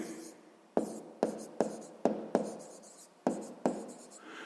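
A pen writing out a math answer by hand on paper, heard as crisp, close scratchy strokes in short bursts, about seven sharp onsets each trailing off, faint and quiet with no voice over them.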